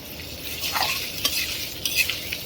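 Onions, black pepper, green chilli and salt sizzle in a pan for khichuri while a spoon stirs them, giving a steady hiss broken by a few scraping strokes, close and alone with no talk.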